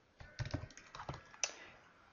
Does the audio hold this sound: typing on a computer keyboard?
yes